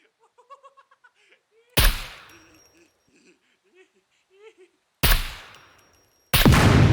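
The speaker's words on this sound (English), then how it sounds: "You can shoot him in the head." Three sharp, loud gunshots in the survival game SCUM crack out, each followed by a short echoing decay. Soft giggling and voice fragments can be heard in the quiet stretches between the shots.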